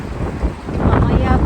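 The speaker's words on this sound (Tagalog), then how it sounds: "Sobrang lakas ng hangin ngayon, ha." Strong wind in the UK on New Year's Eve buffets the microphone in a constant, loud roar, with heavy low rumbling gusts throughout.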